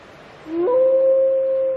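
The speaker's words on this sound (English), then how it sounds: "Her howls identify her as an available female." A black female wolf gives a single long howl that rises in pitch, then holds a clear, steady, sustained tone over a quiet background, with no other sounds.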